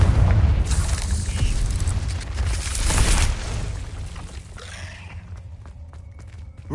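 A Confringo explosive spell blast in Hogwarts Legacy on PS5 booms loudly with rumbling low-end debris and crackle, then decays into a quieter, thinner tail with faint game effects.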